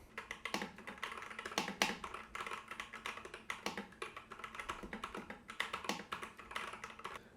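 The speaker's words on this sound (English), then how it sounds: "we do want to see how it picks up keyboard" Rapid, steady typing on a computer keyboard, recorded close through a FiFine A8 microphone, with crisp clustered key clicks and occasional heavier strokes, no voices.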